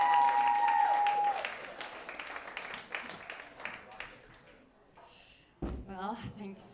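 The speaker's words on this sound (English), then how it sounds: "Well, thanks for the applause." Audience applause and cheering for a stand-up comedian at a New York comedy show, loud at first then thinning out, with a voice speaking as the clapping fades toward the end.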